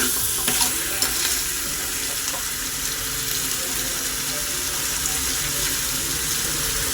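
Crab curry is stirred in a hot pan, a steady, dense sizzling hiss that runs the whole time with a few faint scraping knocks near the start, close and loud, no talk.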